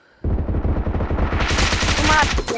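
PUBG gunfire erupts after a short quiet, a dense burst of rapid shots from a shotgun fight that stays loud and close, with sharp impacts layered over the clatter.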